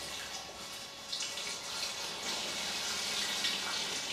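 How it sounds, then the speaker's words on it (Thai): Water streams steadily into a bottle holding lime peels, a continuous gushing pour that thickens slightly as it goes, close by with no voices. "ใส่น้ำนะคะ"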